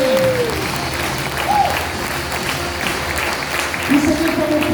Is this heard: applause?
yes